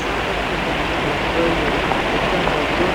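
Steady rain hisses continuously, close and fairly loud, with no clear breaks or voices.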